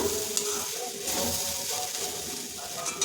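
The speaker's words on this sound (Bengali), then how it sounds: "2-3 মিনিট পর চাপা খুলছি, একটু নাড়িয়ে নেব।" Egg chira, flattened rice, being stirred in a pan after cooking covered, producing a continuous soft sizzle with faint scraping and stirring noises at an even level, close by and without speech.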